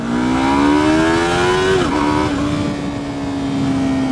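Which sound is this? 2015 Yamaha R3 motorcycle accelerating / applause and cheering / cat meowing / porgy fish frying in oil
2015 Yamaha R3 motorcycle accelerating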